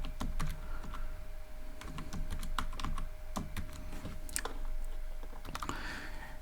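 Continuous close-up typing on a computer keyboard while writing Python code, dense irregular key clicks running steadily at a soft, even level.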